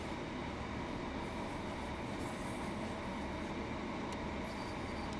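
A train in Train Sim World 3 on the West Cornwall local line near Penzance gives a steady rolling rumble and hiss, constant in level with faint high squeals, and no voices.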